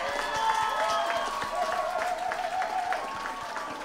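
An audience at a PDP political proclamation rally claps in a steady, rhythmic beat, with crowd noise and a voice running over the applause.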